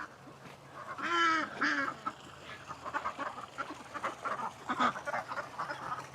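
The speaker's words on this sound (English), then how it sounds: "I got you, duck. Don't freak out." A duck loose on a ranch during morning chores gives a burst of loud, close quacks as it is herded back in, followed by quieter scattered calls, with footsteps and outdoor rustling throughout.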